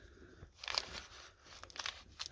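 Old, brittle paint on a cheap Chinese quad bike crunches and crackles in a few short, faint bursts as it is scraped and cleaned, close to the mic with quiet gaps between.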